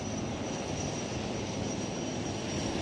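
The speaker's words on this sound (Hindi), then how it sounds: "इनके ठीक पीछे है 42B पनडुब्बी प्रतिरोधी और Seeking 42 Bravo हेलीकॉप्टर" A Sea King 42B anti-submarine naval helicopter passes overhead during a naval display, its engine and rotors making a loud, steady broadband roar that fills the whole stretch with no talk.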